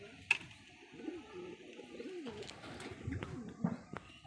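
Pigeons in a loft give soft, low cooing calls, a few rounded coos spread over the moment with a couple of brief sharper chirps, close and quiet.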